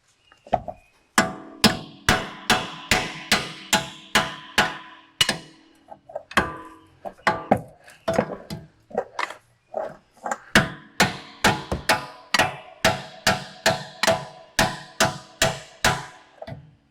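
Steel hammer striking hub bearing bolts on a Cadillac XT5 front hub, a long series of sharp, loud metallic knocks in quick bursts with brief pauses between groups, close up and without talk.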